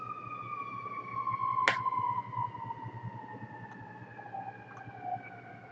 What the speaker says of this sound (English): now that the ambulance is mostly gone